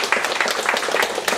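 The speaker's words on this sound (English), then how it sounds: "there are a lot of us and we applaud you" An audience at a developer meetup applauds a presenter, a short burst of many hands clapping fairly close and loud, fast and uneven.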